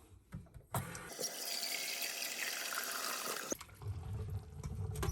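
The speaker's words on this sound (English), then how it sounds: "This pot, and I will fill it up with water" Tap water gushes into a pot for a couple of seconds, a steady hissing pour framed by clanks and handling noises before and after.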